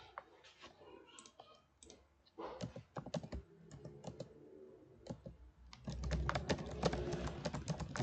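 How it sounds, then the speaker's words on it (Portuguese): Typing on a computer keyboard into an HTML text input field: a steady run of quiet keystroke clicks, close and fairly soft, with no speech. "eu continuo aqui digitando, mas o meu input ele não insere mais do que esse número de caracteres"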